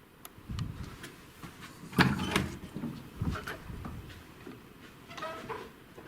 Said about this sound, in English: I heard a door.